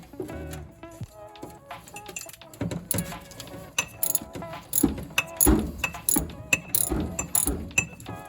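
A pivoting socket wrench ratchets and clicks while loosening a 9/16 bolt on the fuel pump of a 1968 Ford F250, giving close, irregular metallic clicks and clinks with no talk.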